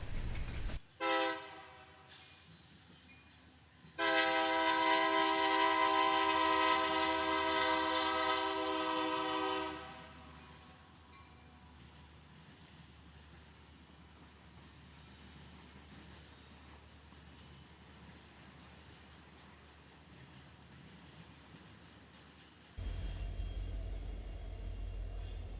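A Union Pacific SD70M locomotive with a Phase 2 cab passes with its train. A loud multi-tone horn blast sounds early on, then the rumble of the rail cars carries on steadily before a heavy low-end surge near the end.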